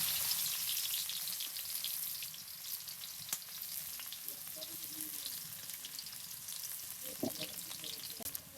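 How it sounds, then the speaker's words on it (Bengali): Chopped onions frying in hot oil in a wok, a continuous close, bright sizzle with scattered pops and occasional stirring clinks, heard alone. "পেঁয়াজগুলো সুন্দর করে ভেজে নিব"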